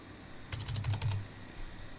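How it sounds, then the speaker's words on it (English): Several quick keystrokes on a laptop keyboard as a command is typed, a short burst of clicks lasting under a second, close and fairly quiet, with no talking. "So type this command carefully and simply hit enter to execute."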